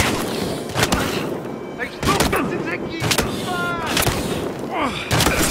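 Battlefield Hardline video game gunfire: loud booming shots at irregular intervals, roughly half a dozen heavy reports with echoing tails, close and forceful under constant game ambience.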